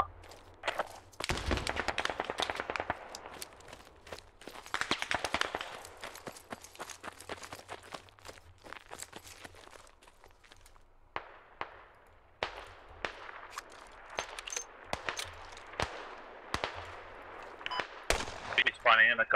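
Grenade explosions and rapid gunfire from the military shooter game Squad, with sharp repeated cracks and bursts at varying distance across a chaotic firefight, and some voices heard underneath.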